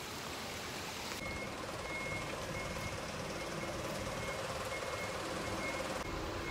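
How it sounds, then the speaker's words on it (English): Tour buses arriving at Ninh Binh, Vietnam, with steady reversing beeps sounding at regular intervals from a short distance over a continuous engine rumble and outdoor noise. "The tour buses have arrived."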